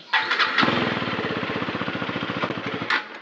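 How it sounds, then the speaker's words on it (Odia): A vehicle engine cranks and sputters for about three seconds, a rapid even chugging that never catches into a steady run, close and fairly loud. "କଣ ଷ୍ଟାର୍ଟ ହଉନି ଗାଡିଟା"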